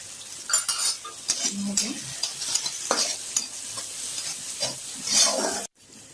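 Tomatoes and big chillies fry in oil with onion and garlic for a restaurant-style dal, giving a steady close sizzle broken by repeated spoon scrapes and stirring clicks, with a brief cut to silence at the very end.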